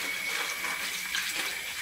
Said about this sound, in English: fill this plastic tub up with a little bit of lukewarm water